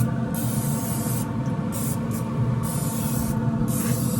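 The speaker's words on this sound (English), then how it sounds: "So we'll just put a little bit of spray on there." Cooking spray hisses steadily and loudly onto the skin of a whole suckling pig on a Traeger smoker, a continuous close spray with brief pauses between bursts over the fan hum.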